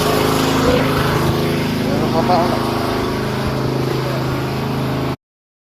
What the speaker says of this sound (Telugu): కోయట్లో పడవ చూడండి ఎంత బాగుందో